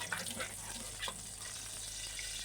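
Oil heats in a hot pan with a soft, steady sizzle and a few faint crackles and pops over a low hum, with no voices.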